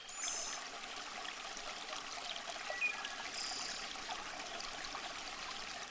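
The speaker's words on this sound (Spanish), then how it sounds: "es el arroyo Wangulba que fluye suavemente por la selva tropical de Fraser" Wanggoolba Creek trickles gently through the Fraser Island rainforest in Australia, a soft, steady, even flow of water heard quietly with no voices.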